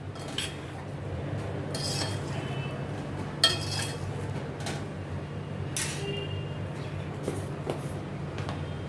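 Stuffed okra and potatoes being mixed with masala in a pan bring intermittent scrapes and clinks of a spoon against metal over a low steady hiss, irregular and close, without talk.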